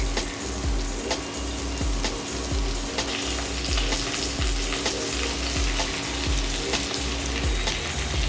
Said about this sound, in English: put the marinated chicken pieces in it